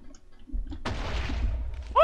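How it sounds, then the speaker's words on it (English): Fireworks bursting in the Minecraft mini-game SuperCraftBros, a sudden booming blast followed by a crackling rumble that fades, then a player's sharp startled voice at the end. "Oh, the fireworks scared me."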